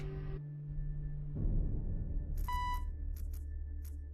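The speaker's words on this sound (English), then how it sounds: "I hate the damn alarm sound." Repeating electronic alarm beeps in the sci-fi colony-building video game Horizon Journey on the Red Planet, sounding in several short bursts over a low ambient game hum after a brief tone.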